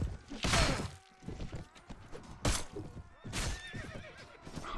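Horses neigh and whinny several times in a Mount & Blade battle, loud and close, with hoof clip-clop and combat thwacks between the calls.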